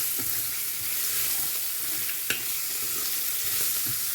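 Onions sizzling in a pan for a prawn curry, a steady bright frying hiss throughout with soft stirring scrapes and one sharp utensil tap near the middle.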